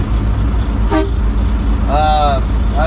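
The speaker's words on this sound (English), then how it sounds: "my air horn." A truck's air horn gives two short, loud blasts about a second apart during a CDL pre-trip inspection, over the low hum of an idling engine.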